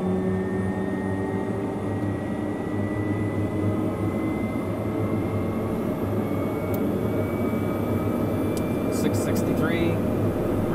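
Turboprop engine of a Pilatus PC-12NG spooling up during start on the ground, a loud continuous roar with rising whine tones. Faint chirps appear near the end.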